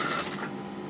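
A sewing machine stitching lined trouser fabric runs in a steady, fast mechanical whir for about a second, close and continuous, with no talk.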